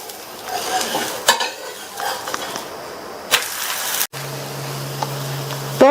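A wheat dosa fries in oil on a pan with a steady sizzle, broken by sharp scrapes and clatters of a spatula as it is flipped, plus a brief low hum near the end.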